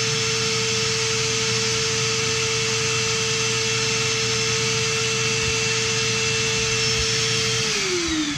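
A portable dust collector's vacuum motor drones steadily at a constant pitch, loud and close, then its whine drops off as it begins winding down near the end.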